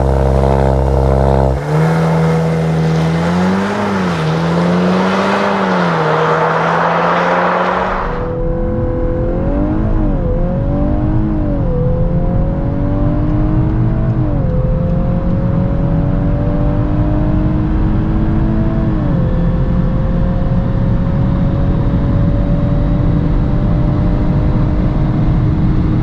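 A Volkswagen Golf 8 R accelerates from 0 to 200 km/h, its engine roaring loudly and rising in pitch, with short drops at each gear change, then a long sustained high-speed drone with heavy road and wind noise, no voices.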